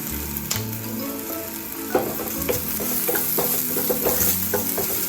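Onion, ginger and crushed garlic sautéing in a pan on the stove, a steady broad sizzle broken by repeated scraping and clacking stirs, close and fairly loud with no voices.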